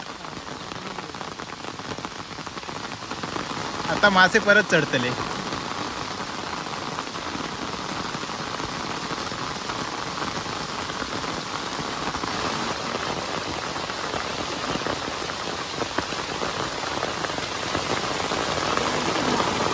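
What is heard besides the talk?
heavy rain falling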